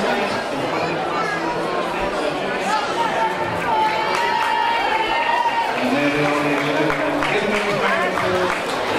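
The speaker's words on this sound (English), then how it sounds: "them a big round of applause" Outdoor crowd at the Royal Welsh Show harness racing, a dense, continuous wash of clapping and chatter from many people, steady and fairly close, with voices and a tannoy-like announcer mixed through.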